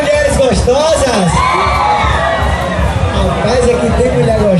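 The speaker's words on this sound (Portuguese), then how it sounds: "Cadê o gritinho das mulheres gostosas?" A loud festival crowd shouting, whooping and cheering continuously, with high excited voices rising above a dense babble throughout a party in Alagoas.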